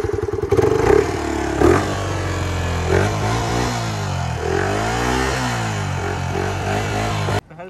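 A newly bought motorcycle's exhaust revs repeatedly while idling close by. The engine climbs and falls several times in a steady, loud rumble before cutting off abruptly at the end.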